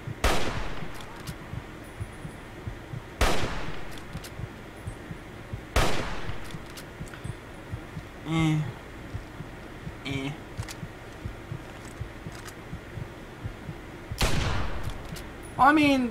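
Hunting rifle shots in a modded video game ring out as a few sharp, loud blasts spaced several seconds apart over a low background hum, with a person talking faintly between them.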